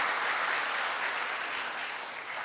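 An audience applauding at an inspirational talk event, dense steady clapping that fills the room without pause.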